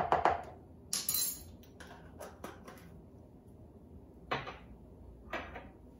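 A metal measuring spoon scoops and sprinkles ground cumin in a kitchen, giving a few soft, close clinks and scrapes against a container, separated by quiet pauses.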